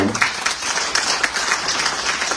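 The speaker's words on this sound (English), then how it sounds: "Ladies and gentlemen, a round of applause for" A crowd at a book launch in Dominica claps steadily and fairly loudly throughout, a dense, even spatter of hands with no talking over it.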